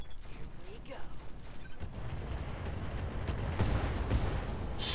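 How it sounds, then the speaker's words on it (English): Weapons fire from a mech in the Roguetech video game, a rolling volley of heavy blasts and booms building toward the end, with dense rumbling low end throughout. "let's just fire everything on this guy"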